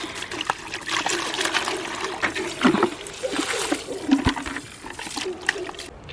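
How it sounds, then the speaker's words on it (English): Water gushes from a garden hose into a bucket and is tipped out, a continuous splashing trickle with irregular louder splatters, fairly close. "And I will hose out the bucket. Dump it out."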